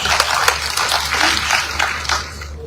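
Audience clapping at a leadership event in Sierra Leone, a broad wash of many hands with some sharper individual claps standing out, tapering off near the end.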